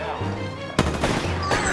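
Gunfire in the video game Apex Legends, a loud burst of shots that breaks out partway through and keeps going over continuous game noise, with a second sharp burst near the end.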